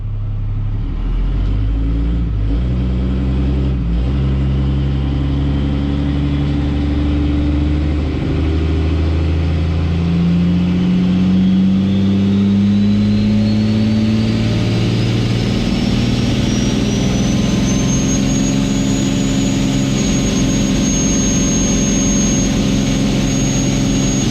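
A 4th-gen Cummins 6.7 diesel drag truck engine rumbles loudly and steadily throughout, holding a high rev on two-step launch control with a rising whine layered over the deep drone and no talk.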